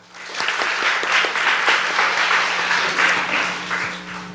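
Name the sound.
congregation applauding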